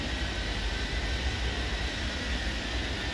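An airplane rolls across a runway in the airport control game Airport Madness 3D, heard as a steady, even engine drone that holds at one level throughout.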